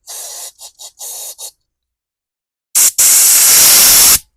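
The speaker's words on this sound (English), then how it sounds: "carb cleaner through the main jet, make sure it's clear." Aerosol carb cleaner sprayed through the main jet of a Cub Cadet riding mower carburetor: a few short hissing bursts, a pause, then one long loud close spray hiss.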